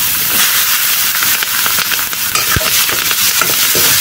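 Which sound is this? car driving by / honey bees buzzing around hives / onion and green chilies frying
onion and green chilies frying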